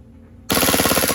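A KWA KZ.61 gas blowback airsoft gun fires a fast full-auto burst with a freshly used, still-cold magazine, loud rapid rattling clacks starting abruptly after a brief quiet moment and continuing evenly to the end.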